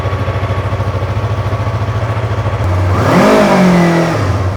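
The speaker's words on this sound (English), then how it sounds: "I'm not gonna rev anymore." A motorcycle being prepared for a long ride idles with a steady, loud rhythmic chug, then is revved sharply, the engine note sweeping upward and holding high, with no talking.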